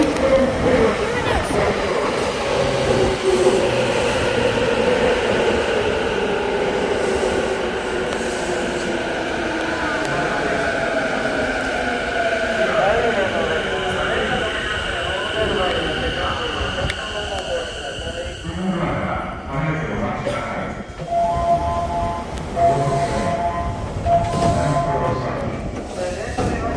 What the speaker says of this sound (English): Now this is an underground metro train this time.